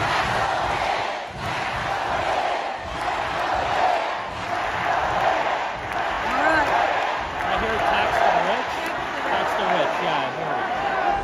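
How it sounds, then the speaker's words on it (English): A large crowd boos New York governor Kathy Hochul and then breaks into a rhythmic chant, a dense roar of many voices that swells and pulses throughout. "So they booed her, and then they started chanting "Tax the rich.""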